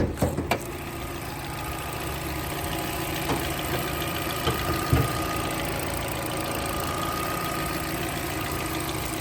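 A 2013 Hyundai Elantra with a 1600cc engine idles steadily, a constant close mechanical hum with faint ticking and a few light clicks, no voices over it.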